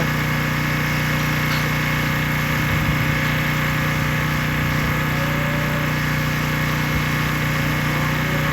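A small, handy tractor engine runs at a steady close drone with a constant humming tone, unbroken for the whole stretch and with no voices.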